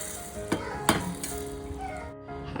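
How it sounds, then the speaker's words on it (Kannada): Hot tempering of cumin and Kashmiri red chilli powder is poured into a pot of thin toor dal sambar, giving a steady loud sizzle with a few sharp bursts of crackle, alone with no talk. "ಈ ಒಗ್ಗರಣೆನ ನಾನು ಸಾಂಬಾರ ಹಾಕ್ತೀನಿ"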